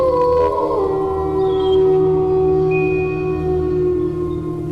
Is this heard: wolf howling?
yes